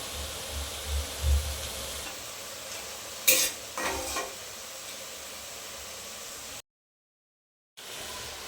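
Boondi batter sizzles in hot oil with a soft steady hiss while a spoon stirs and scrapes a pan a few times, with a brief clatter midway and a short silent gap.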